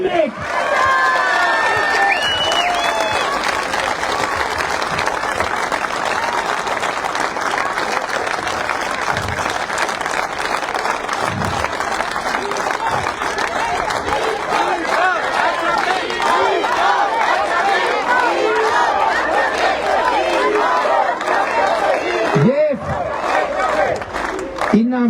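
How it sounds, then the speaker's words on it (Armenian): A large audience bursts into loud, sustained applause, clapping steadily for over twenty seconds with scattered shouts and cheers mixed into the crowd noise. "եթե հավատում եք ասածից ծափարեք այնքան ինչքան հավատում եք"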